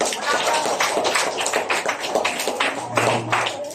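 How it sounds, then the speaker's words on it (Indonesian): A group claps together in a dense burst of applause, close and lively, with a few voices mixed in. "yuk tepuk tangan untuk kita"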